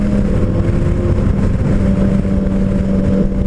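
A Yamaha MT-09 Tracer motorcycle engine runs loud and close, a steady, heavy drone with a strong low hum and no talking.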